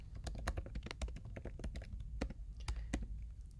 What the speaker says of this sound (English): we're going to go and type in fraternity sorority council